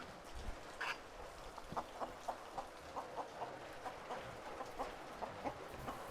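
Hen clucking in short, repeated bursts at a steady uneven rhythm, moderately close amid a farmyard background with no talk.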